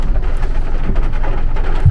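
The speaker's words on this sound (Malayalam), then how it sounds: "ചായ കുടിച്ചിട്ട് നമ്മൾ തുടങ്ങിയപ്പോൾ മഴ തുടങ്ങി." Rain falls on a moving Uber car during a trip in Trivandrum, Kerala, making a steady, loud, dense hiss mixed with road noise inside the cabin, with no talk.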